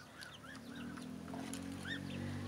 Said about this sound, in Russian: куры уже прогнали гусей из большой кормушки